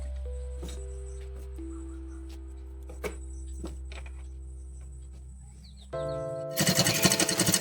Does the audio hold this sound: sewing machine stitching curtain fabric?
yes